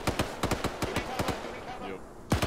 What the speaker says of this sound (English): Oh yeah, the gun works